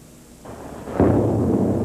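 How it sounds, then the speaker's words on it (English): A deep, rumbling blast rolls in after a quieter stretch, a low booming roar that swells and lingers like distant explosions over Baghdad during the 2003 war. "More than 30 explosions shook Baghdad and its outskirts tonight."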